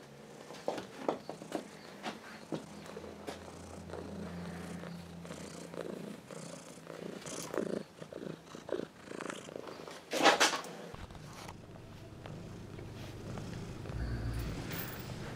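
A cat purring steadily and softly while being stroked in a garden, a continuous low rumble with occasional light rustling and handling noise.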